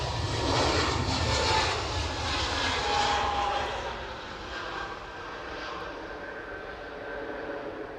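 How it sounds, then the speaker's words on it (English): An EasyJet airliner takes off from Edinburgh Airport, a loud, rumbling jet engine roar heard from a distance that peaks early and then slowly fades with a whining tone. "EasyJet off to Milan."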